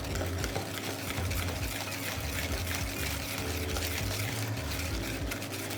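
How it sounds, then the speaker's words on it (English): A splash of hot milk poured onto egg yolks for doughnut making, a close steady liquid pour running continuously with a faint whirring hum beneath it. "I'm going to put a splash only of the hot milk"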